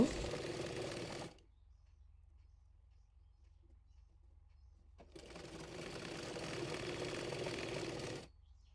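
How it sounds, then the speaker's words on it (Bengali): A sewing machine stitches a folded kameez sleeve cuff in two steady, whirring runs. The first lasts about a second; the second, after a quiet pause, runs about three seconds. The machine is close and there is no talking. "হাতার মোহরি মুড়িয়ে সেলাই করে নেব"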